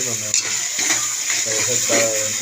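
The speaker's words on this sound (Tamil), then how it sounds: "இந்த எண்ணெயில் நம்ம புதினாவும் மல்லி போட்டுக்கிறோம்." Mint and coriander leaves frying in hot oil for chicken biryani, a steady close sizzle with crackling bursts as the greens hit the pan, under a person speaking.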